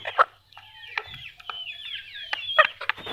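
Chickens cluck and squawk while pecking at mixed feed in a village yard, a series of sharp, close calls in bursts, some overlapping, with quiet gaps between them.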